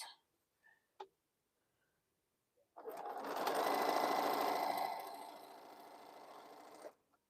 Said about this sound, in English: I'm just going to sew these 2 pieces together because I can